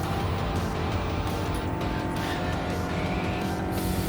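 Race car engines roar continuously in Gran Turismo 7 as one car slipstreams and passes another, a dense, loud, steady drone with no pauses.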